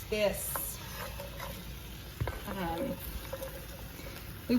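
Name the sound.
vegetables cooking in a pan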